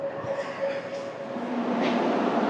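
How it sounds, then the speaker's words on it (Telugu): The Tirupati–Allahabad passenger train pulls in at platform 3 of Renigunta station, sending out a rising rumble of wheels and carriages with a few faint squeals and tonal whines, growing louder as it nears. "ఇప్పుడే ప్లాట్ఫామ్ నెంబర్ 3 మీద ఒక ట్రైన్ అయితే వచ్చింది"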